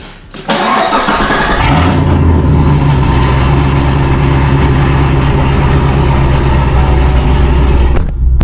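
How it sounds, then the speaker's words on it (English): A supercharged LT4 Corvette V8 with aftermarket exhaust cranks and roars to life, then settles into a loud, rumbling idle with a deep, throaty exhaust burble that holds steady for several seconds. "the same, I guess, loudness because of the exhaust that I have on the car"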